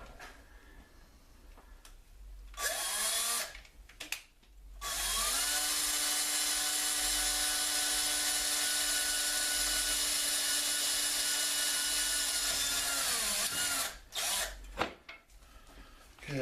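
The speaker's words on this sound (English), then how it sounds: "then drill and tap it and then put a screw in" A power drill with a tap drill whines steadily for about nine seconds at high pitch drilling through plastic and metal, with short bursts of drilling before and after, close and loud.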